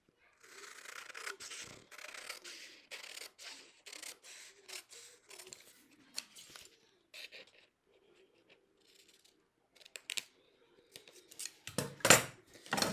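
Scissors cutting away excess paper from a dress yoke pattern, close and quiet rhythmic snipping and rustling strokes that pause midway, then a louder crinkle of handling near the end, with no talk.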